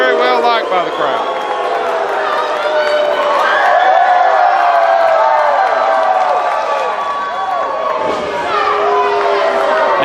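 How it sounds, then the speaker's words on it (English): A wrestling crowd at an AIWF event roars in a sustained ovation, a dense wash of cheering and chatter that keeps going without a break. "Amber O'Neal gets a nice ovation."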